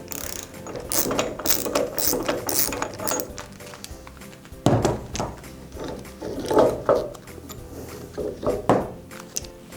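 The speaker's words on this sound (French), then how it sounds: "on va procéder au démontage du palier" Metal parts of a Saint-Gobain PAM Euro 20 valve being dismantled at the bearing, giving repeated ratcheting clicks and gear-like mechanical rattles in uneven bursts, close and fairly loud, with no talking.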